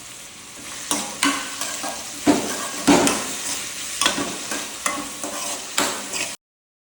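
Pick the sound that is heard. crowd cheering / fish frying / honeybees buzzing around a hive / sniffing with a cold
fish frying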